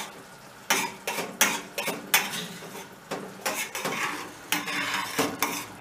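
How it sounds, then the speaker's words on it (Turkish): Menemen eggs being stirred in a pan with a steady run of close scraping and clinking strokes, roughly two per second, over a soft sizzle and with no talking. "Böyle devamlı karıştıralım arkadaşlar."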